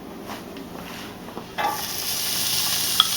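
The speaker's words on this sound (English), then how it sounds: "Listen to that sizzle." Chopped onion hits a hot pan on high heat and bursts into a sharp, steady sizzle that swells and holds, with faint stirring before it and no talking.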